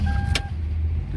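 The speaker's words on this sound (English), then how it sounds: "Start the car, and the car is done." A 2003-2004 Toyota Lexus starting after its engine computer was replaced: a short sharp burst from the ignition, then a steady low engine hum close by.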